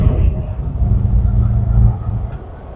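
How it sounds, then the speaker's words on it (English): Manual truck's diesel engine cranking and running at idle while the air brake system builds pressure, a loud steady low rumble throughout that eases slightly near the end. "Now I'll perform a safe start to rebuild my air pressure back to normal."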